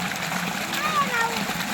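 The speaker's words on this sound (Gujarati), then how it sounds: "અત્યારે આપણે આમાં પાણી જાય છે" Water splashes and trickles steadily into a tray sown with fenugreek and coriander seeds, with a voice chattering faintly over the pouring.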